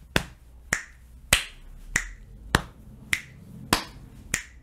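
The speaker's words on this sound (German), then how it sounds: "den Schnipser machen wir immer direkt dazwischen" Body percussion: sharp finger snaps placed between chest slaps and claps, eight crisp hits at an even, unhurried pulse, close and clean with no talking.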